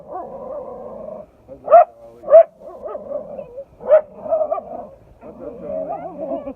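A dog outdoors on a Long Island nature walk gives a few sharp, loud barks spaced a second or two apart, mixed with whiny vocal sounds while a person talks nearby.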